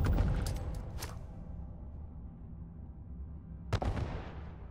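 A grenade explodes in a video game firefight, a short broadband blast near the start, then a quieter rumbling stretch and a second sharp burst toward the end, no talking.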